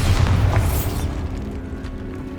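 A Bombarda blasting spell explodes in Hogwarts Legacy with a single heavy, booming blast that rolls for about a second before fading into a quieter hum of game ambience.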